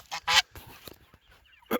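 Farmyard geese honk nearby in a few sharp, loud bursts separated by short quiet gaps, with no talk.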